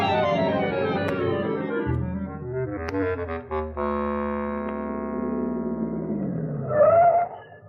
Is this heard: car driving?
yes